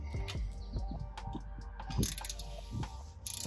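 A ratchet snugs the fill plug on a Jeep Wrangler differential, with a quick run of sharp close clicks, then a few separate clicks and some metallic clatter.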